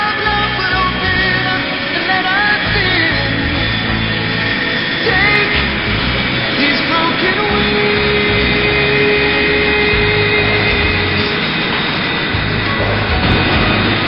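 Aircraft engines starting up before an air show, roaring steadily, a loud continuous jet whine and rumble that holds throughout without letting up, with no voices.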